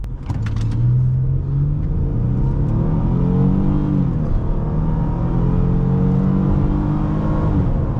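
A 2009 Ford Taurus SE accelerates hard from a stop to 60 mph, its engine heard from inside the cabin as a loud, continuous rising drone that climbs in pitch through each gear, with brief dips between shifts.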